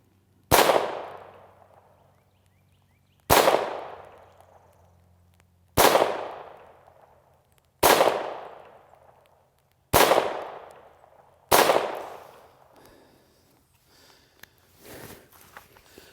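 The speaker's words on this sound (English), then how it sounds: "we're going to go ahead and take a couple accuracy shots with it" Six evenly spaced, loud cracks from a Taurus TX-22 pistol fired at a range at about five to six yards, each with a ringing decay, followed by faint handling noises.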